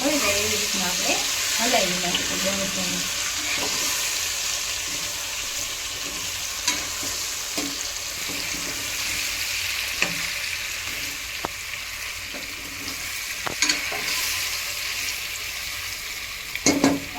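Stuffed bitter gourds (bharela karela) frying in oil over a low flame, giving a steady, close sizzle throughout with occasional faint scrapes and soft clicks, and no talking.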